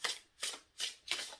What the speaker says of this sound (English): why am I shuffling these cards this way?